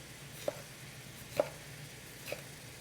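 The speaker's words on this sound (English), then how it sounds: "so I'm going to finely chop this." A knife finely chops bell pepper on a board. Three sparse, distinct knocks fall about a second apart against a quiet background.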